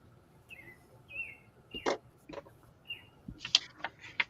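Small birds chirp and tweet in short scattered calls, fairly faint and distant, with no talking over them.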